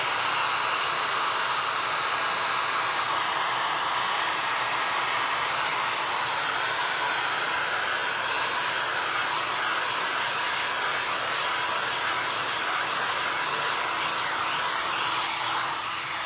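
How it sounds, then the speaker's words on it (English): A hair dryer blows steadily at close range to dry paint on glass, a continuous airy roar holding the same level throughout with no voices. "I'm gonna hit it with a dryer real quick so I don't smear it with my hand"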